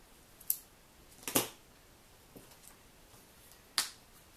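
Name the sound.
scissors cutting paper for punch art strawberries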